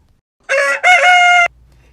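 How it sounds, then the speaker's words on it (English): A rooster crows once nearby, a loud, bright cock-a-doodle-doo in two bursts, with quiet surroundings before and after. "Kiki-riki, crowed the rooster."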